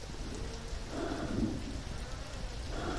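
Rain falls steadily in a video game as a faint, even hiss that continues throughout, with a slightly fuller wash in the middle.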